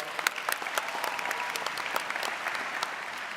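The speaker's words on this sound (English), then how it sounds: "Please give her a nice round of applause." Continuous applause fills a graduation ceremony hall, many hands clapping at once in a steady wash with a few crisp claps popping out, heard from a moderate distance.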